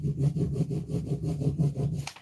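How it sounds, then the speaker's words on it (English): A stick rubs back and forth over a Dixie Belle transfer laid on a suitcase, a steady, rhythmic scraping of about ten close strokes that ends with a light tap. "take the stick that comes with it and burnish"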